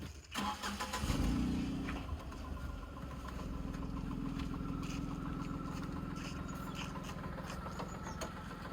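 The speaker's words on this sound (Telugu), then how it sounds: "ఇంజన్ సౌండ్ కూడా చూడండి." A well-maintained 2016 Tata Tiago XZ petrol hatchback in original condition cranks and fires about a second in, then settles into a steady, close idle with no talking.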